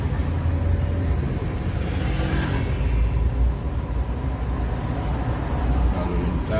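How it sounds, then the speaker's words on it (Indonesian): Dense daytime traffic rumbles along Basuki Rahmat street in Palembang, a steady close wash of car engines and road noise with a brief louder swell partway through. "Lalu lintas lumayan padat."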